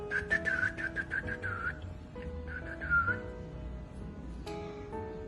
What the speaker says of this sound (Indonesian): dalam pohon bersiul-siul dengan merdu.